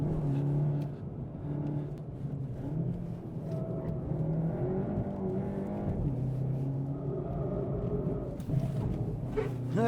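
A race car on track tyres takes a fast corner with a brief lift off the throttle, its engine note rumbling and rising and falling steadily up close, with a sharper burst of revs near the end.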